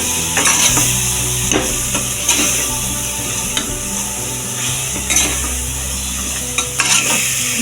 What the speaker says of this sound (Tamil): மிளகாத்தூள் சேர்த்துட்டு நல்லா ஒரு தடவை மிக்ஸ் பண்ணிக்கணும்.